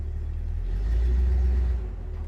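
A 1956 Chevrolet 3100 Stepside pickup truck pulls away with a loud, close, deep engine rumble that swells briefly and then eases, with no talking.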